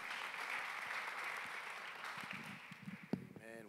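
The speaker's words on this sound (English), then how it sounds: "Give the Lord another clap offering." A church congregation at a Wednesday evening service claps in a dense, sustained round of applause that fades toward the end as a voice begins.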